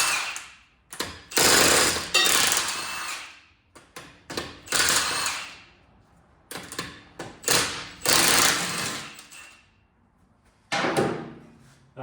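Lug nuts coming off a Mercedes C300 front wheel with a 17 mm socket, heard as repeated loud bursts of impact-gun rattling separated by short pauses, close by with no talk.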